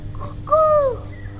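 A one-year-old boy imitates a rooster's crow with a single short, clear, rising-then-falling vocal call, close and fairly loud over quiet room noise.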